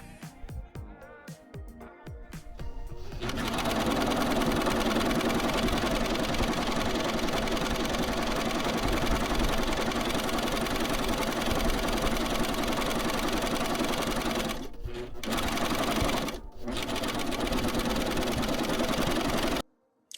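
A Bernette airlock serger runs at speed, stitching fabric with a steady, dense mechanical whir. Brief stops occur near the end, before it cuts out abruptly, and a few softer start-up rattles are heard at the beginning.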